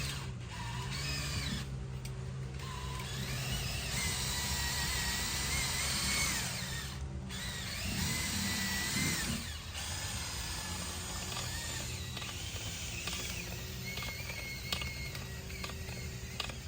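A power drill whirs steadily as it spins a dryer vent cleaning line through the duct, a continuous mechanical grinding and rattling with brief pauses and pitch shifts, close and loud, without speech.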